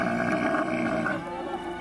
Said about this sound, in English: was the sound of a camel or two